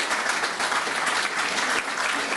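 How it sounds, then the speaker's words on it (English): An audience at a business ethics forum in Bled, Slovenia applauds a panel, a dense, even wash of many hands clapping at steady loudness from start to finish. "We would like to complete this most interesting panel with a big round of applause."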